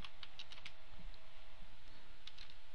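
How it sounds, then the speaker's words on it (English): Keys tapped on a computer keyboard in a short burst of quick clicks, a pause, then a few more, close and fairly soft over a faint room hum. "So let's type in variables"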